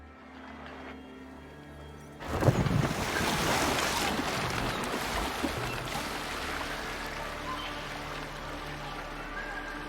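After a quiet start, a steady rush of ocean waves, wind and hull splashing rises as a Viking ship sets sail toward Ireland in Assassin's Creed Valhalla, continuous and fairly close.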